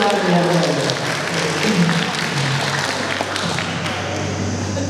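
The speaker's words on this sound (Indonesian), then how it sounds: "tepuk tangan dulu" Audience applause at a parenting seminar, a steady, even wash of clapping across the room that lasts the whole time under a low hum, with voices faintly audible.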